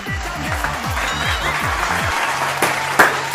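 Audience clapping on a comedy spoof of a TV quiz show set, a steady patter of applause under a repeated low thumping beat, with a few sharp hits near the end.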